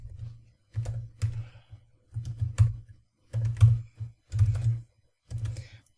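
Someone types a short mkdir command on a computer keyboard, the keys tapping out in quick clustered bursts with brief pauses between words, close and clear in an otherwise quiet room.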